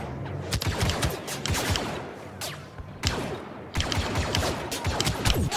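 Rapid bursts of blaster and gunfire from the game Star Wars Battlefront 2 on PS4, dense and continuous with sharp repeated shots and brief lulls, loud and close.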